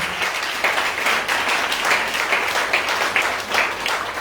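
A church congregation applauds steadily and loudly, a dense wash of many hands clapping with no pause.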